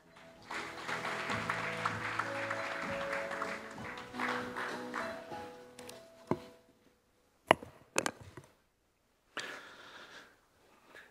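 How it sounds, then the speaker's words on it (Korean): Audience applause at the opening ceremony of the 12th Edaily Strategy Forum, a steady wash of clapping from a large hall that fades after several seconds, followed by a few isolated knocks and shuffles. "큰 박수 부탁드립니다."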